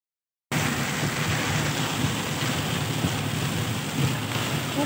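Heavy monsoon rain in a village, a dense, steady downpour that starts abruptly and stays loud without letup.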